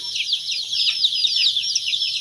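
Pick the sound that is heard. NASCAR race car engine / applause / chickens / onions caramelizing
chickens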